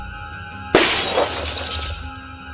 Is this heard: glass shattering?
yes